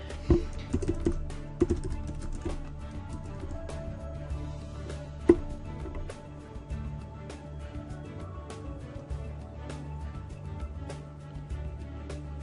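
Someone types credit card details on a computer keyboard, with irregular clusters of crisp, close key clicks and a few louder taps over a quiet room.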